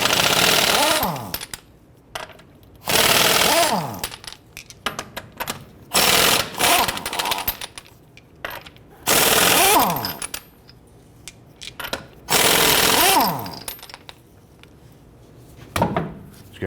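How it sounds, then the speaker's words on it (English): Lug nuts on a 2009-2015 Honda Pilot wheel being loosened and removed with a 22mm socket, loud bursts of rattling power-tool hammering in several separate runs with quieter clinks and handling noises between them. "Using our 22mm socket, let's go ahead and loosen and remove our lug nuts."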